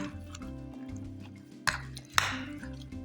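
Onion paste is mixed into meat for shashlik, giving soft wet squelching and sticky squishes with a couple of sharper clinks against a bowl, quiet and close.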